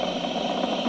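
Falcon 9 rocket with Merlin 1D engines throttling up to full power after max Q during a crewed launch, a steady, dense roaring rumble with crackling texture, continuous and unbroken for the whole second.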